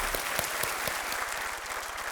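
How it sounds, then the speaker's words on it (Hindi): A studio audience at a television quiz game show breaks into sustained applause, a thick, even roar of many hands clapping close by, with a low rhythmic thump underneath. "तालियों के साथ आपका अभिनंदन।"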